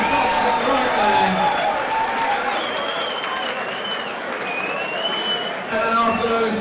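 An audience at a white collar boxing match in London applauds steadily with a dense wash of clapping and some cheering, while an announcer talks over it through a PA.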